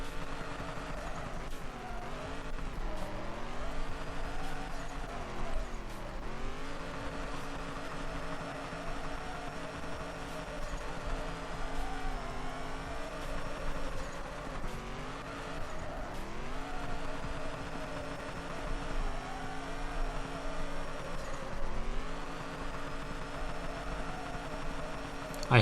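A turbocharged, LS1-swapped Corolla drifts in a Japanese street-drifting video game, its engine note rising and falling steadily through long revs, with tire squeal and passing sweeps, fairly quiet and continuous.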